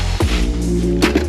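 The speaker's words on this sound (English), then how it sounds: "if you hate that squeegee noise on this" Styrofoam packaging being rubbed, giving a short squeaky squeal with a couple of harsh scraping bursts, loud and close, lasting just over a second.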